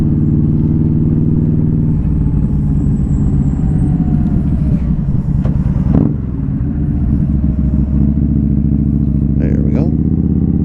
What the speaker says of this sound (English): I just switched the exhaust out in March. I put the Freedom Performance 2-in-1 Combat